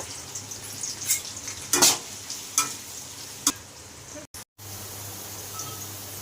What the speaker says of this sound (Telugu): ఆనియన్స్ ఇలా ఫ్రై అయ్యాయి కదా